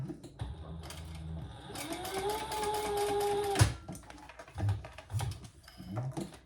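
Sewing machine stitching a fabric wristlet, with a short whirring run of needle strokes near the start and a longer, steady mechanical hum in the middle, followed by scattered clicks and thumps.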